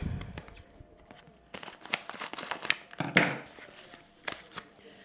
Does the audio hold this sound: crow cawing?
no